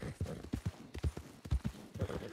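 Hooves of a galloping horse in a Wild West roleplay game, a fast uneven clip-clop rhythm of heavy low thuds, fairly close and steady throughout.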